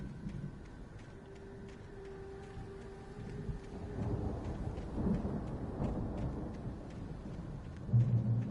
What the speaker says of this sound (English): The storm raged on as the Anderson brothers walked unsteadily